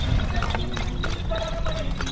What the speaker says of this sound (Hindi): राजगीर का शान घोड़ा गाड़ी है।